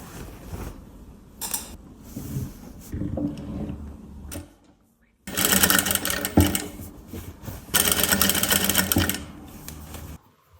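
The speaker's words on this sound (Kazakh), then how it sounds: "мінекей айналдыра машинкада тігіп келетін боламын." Sewing machine stitching bias binding around a blouse neckline, several bursts of close, loud rapid mechanical whirring separated by short stops and handling noises.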